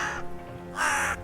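A large black raven caws loudly near a tree line: two harsh, raspy calls, the second longer and stronger, close and clear with no other sounds.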